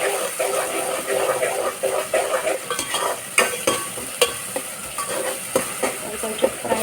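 Ginger garlic paste sizzles and fries in a pan, with steady crackling and repeated scraping stir strokes running throughout at moderate, close volume.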